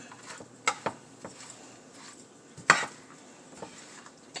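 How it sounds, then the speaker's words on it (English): Chicken and broccoli being stirred in a pan on the stove, with soft scraping and a few sharp clinks of the utensil against the pan over a faint sizzle. "I'll mix it all up until it starts heating up."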